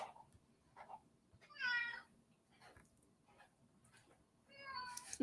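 A male cat meows quietly indoors, giving a few short mews and two longer drawn-out meows, near but faint, alone.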